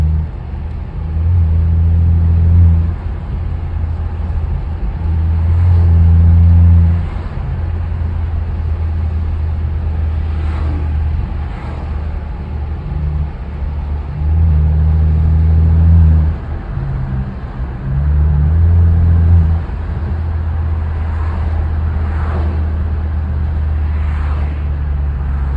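A straight-piped BMW F10 exhaust rumbles loudly and steadily, swelling in several short revving bursts with burbling pops on the overrun, heard close and alone.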